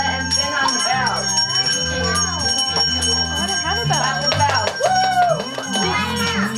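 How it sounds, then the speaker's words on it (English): Small hand bells shaken by children at a daycare Father's Day gathering ring in a busy, continuous jangle, with voices talking and calling out over the ringing. "Only bells. Let me hear those bells."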